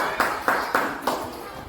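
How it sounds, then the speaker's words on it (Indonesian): A few sparse, distinct claps ring out from an audience at an Indonesian school session on positive culture. Four separate hand strikes sit under an ongoing speaking voice, rather than a full round of applause. "Tepuk tangan untuk Bu Lesti."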